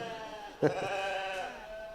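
A lamb bleats once at a junior sheep show, a short nasal cry rising over quiet background murmur.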